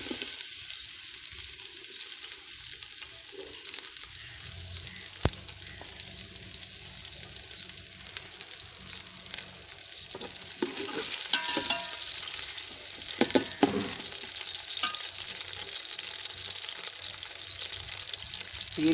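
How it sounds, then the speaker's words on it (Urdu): Onions hitting hot ghee in a pot for chicken pulao, a steady broadband sizzle with occasional stirring clatter, close and continuous with no talk. "گھی ہمارا گرم ہو گیا ہے، اب ہم اس کے اندر پیاز ڈالیں گے۔"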